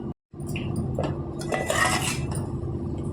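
A metal lid is set onto a pot of boiling rice-water rasam, giving a few close, bright clinks and a brief clatter over a low, steady bubbling hum.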